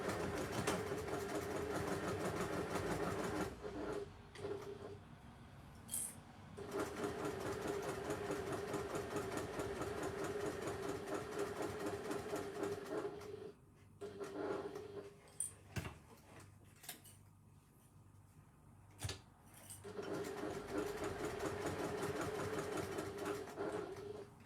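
Sewing machine stitching through several layers of fabric, a steady mechanical whirr running in long bursts with short pauses and a few brief clicks between them, close and moderately quiet.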